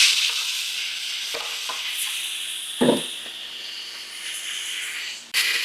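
Mushrooms hit a hot frying pan with a steady, bright sizzle and hiss, with a few soft stirring knocks and a short clatter as more food goes in; no voices.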